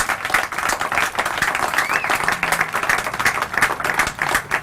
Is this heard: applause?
yes